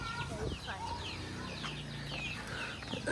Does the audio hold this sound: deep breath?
no